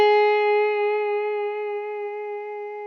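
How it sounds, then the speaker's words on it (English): A single sustained Hawaiian guitar note held with gentle vibrato, clear and close, ringing alone for about three seconds before stopping. "vibrato simply means to vibrate a note like this"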